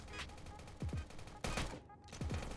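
Gunfire in the mobile World War II game Warfare 1942, several sharp shots in quick bursts with echoing tails, fairly loud and close.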